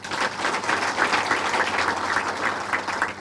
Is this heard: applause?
yes